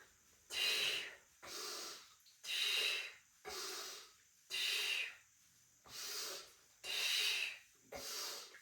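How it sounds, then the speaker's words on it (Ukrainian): Short diaphragmatic breaths in and out during a fat-burning workout, about eight sharp, close, breathy bursts alternating in a steady rhythm with brief pauses between, and no talking. "Короткі вдохи і короткі видихи."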